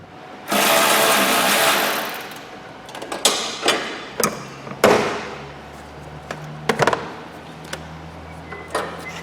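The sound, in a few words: undoing 10mm bolts on Honda CR-V air box bracket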